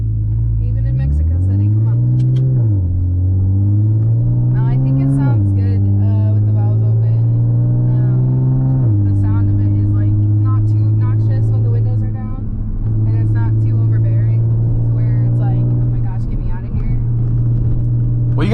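An Audi B8.5 S with an ARMYTRIX valved catback exhaust, valves open, drones loudly up close in Mexico City traffic, its engine note rising and dropping through repeated revs and gear changes, steady and deep throughout.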